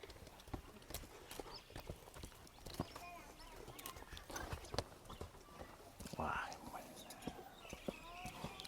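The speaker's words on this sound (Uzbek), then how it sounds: "Ot kuchga to'lib turibdi-da" Shetland pony hooves clip-clop in an irregular rhythm of sharp knocks on hard ground, fairly close, while people talk and murmur nearby.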